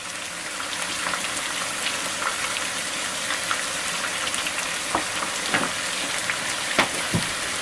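Three garlic cloves and a finely chopped onion fry in about 100 grams of olive oil, making a loud, steady close-up crackling sizzle with occasional sharper pops and a spoon tap or two.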